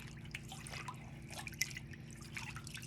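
Water rinses a foot during a pedicure, a soft close trickle and dripping splash that runs steadily with small irregular drips, and no one talks.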